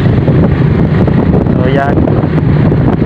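Wind rushes loudly past the microphone on a moving motorcycle, a constant buffeting roar underneath someone talking.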